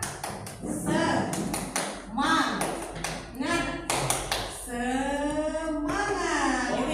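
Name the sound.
class doing the tepuk semangat clap chant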